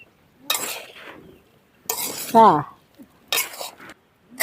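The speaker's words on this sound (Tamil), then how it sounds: "இப்படி திருப்பி திருப்பி வறுத்துக்கணும்" Cassava pieces being turned and fried in a pan, heard as three separate bursts of scraping and stirring with quiet gaps between them and a brief vocal sound in the middle.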